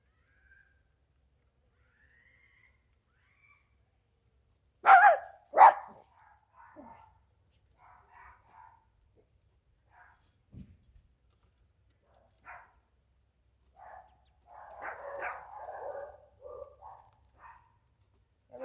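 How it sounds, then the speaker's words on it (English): A few dogs barking near a backyard chicken coop, a couple of loud sharp barks followed by scattered fainter yaps and calls in a quiet setting. "And the dogs are going crazy again."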